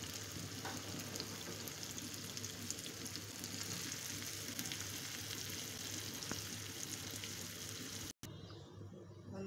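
Bitter gourd seeds fry in hot oil, a steady dense crackling sizzle running close and loud for about eight seconds before cutting off abruptly near the end.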